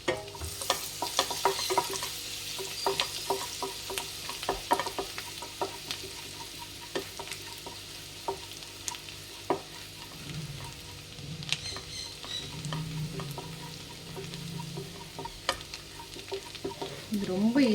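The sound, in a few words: chopped garlic sautéing and stirred in pan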